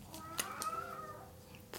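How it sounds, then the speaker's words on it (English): A cat lets out a drawn-out, plaintive meow that wavers and trails off, close and moderately loud, followed by a brief second sound near the end with no talking over it. "It's the saddest meows I've ever heard."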